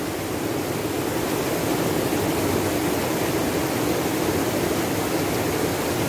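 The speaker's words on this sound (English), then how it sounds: "Glacial water." Glacial stream water flowing in the Dolomites near Croda da Lago, a dense, continuous rushing roar heard close up with nothing else over it.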